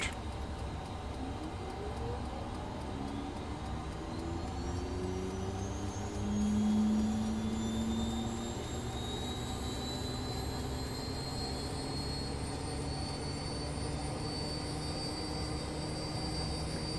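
Cessna 208 Caravan turboprop engine starting up on the ground, a steady rising whine with tones sweeping upward over a constant low rumble, close and continuous throughout.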